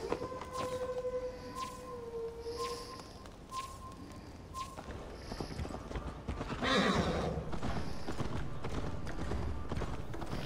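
Horse hooves clip-clop at a gallop in the Viking-era game Assassin's Creed Valhalla, a steady rhythmic pounding with a whinny, mixed over game music and sustained tones.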